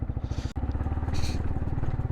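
A motorcycle engine revs loudly and close on a rough, muddy trail, its fast pulsing exhaust note rising and falling throughout.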